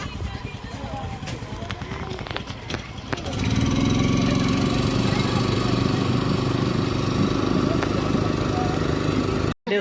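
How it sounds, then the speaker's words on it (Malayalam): A Honda engine on a tourist boat at Lumbini lake in Nepal starts up and runs with a steady, loud, close drone, preceded by a few seconds of knocking and handling noise, with voices talking over it. "ഒരു ഹോണ്ടയുടെ എൻജിൻ വെച്ചിട്ടുണ്ട്"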